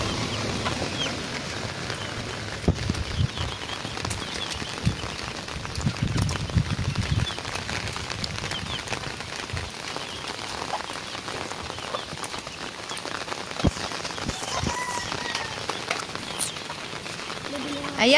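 Steady rain patters down on surfaces, a dense continuous hiss with scattered drips, while birds and chickens stir faintly in the background.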